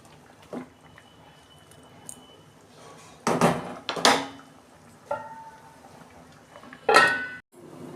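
Cooking pot lid lifted off a pan of shrimp and cauliflower curry, with a few sharp metallic clanks and scrapes and a short ringing tone between quiet stretches.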